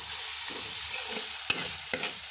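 Garlic and ginger paste being stirred in a hot frying pan, with a steady sizzle throughout, soft scraping strokes, and two sharp utensil knocks against the pan.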